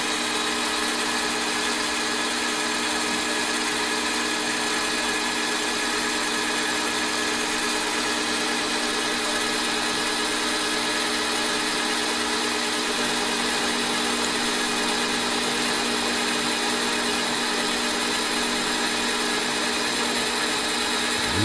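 A mini lathe takes a cutting pass, a steady motor whine with a continuous grinding, buzzing tone that holds evenly and close throughout without pauses or talk.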